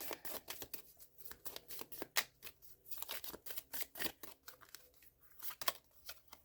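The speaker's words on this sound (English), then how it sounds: "I do want to shuffle these just slightly over to fit one more oracle card" Oracle cards being shuffled and slid on a table during a tarot-style reading, a quiet series of irregular close papery flicks and swishes repeating throughout, no talk.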